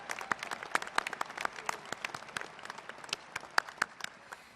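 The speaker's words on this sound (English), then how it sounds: "let's give applause for Rebecca" Audience applause for a top graduate at a US Air Force Academy commencement, many sharp individual claps standing out in a lively irregular patter, fairly close and loud, with no talk over it.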